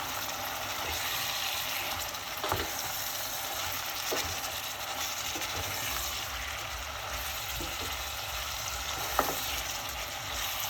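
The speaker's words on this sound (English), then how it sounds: "Give that a stir." Creamy vegetable soup with black pepper sizzles steadily in a pot while being stirred, a continuous frying hiss with a few soft scrapes and clinks of the spoon, close and alone without voices.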